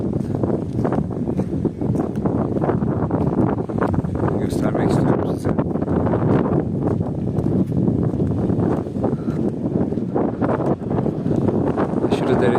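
Strong wind buffets the microphone in loud, roaring gusts on the rocky coast of Gökçeada, with a person talking underneath.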